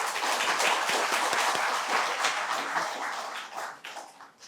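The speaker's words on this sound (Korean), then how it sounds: "다시 한번 격려의 박수를." A church congregation applauds its choir, a thick burst of many hands clapping at once that holds steady for a few seconds and then fades out into scattered final claps.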